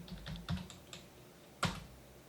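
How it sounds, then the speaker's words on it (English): A computer keyboard clicks through a short burst of typing, a few quick close keystrokes followed by a single firmer keypress after a short pause. "So now I'm just going to type in reboot."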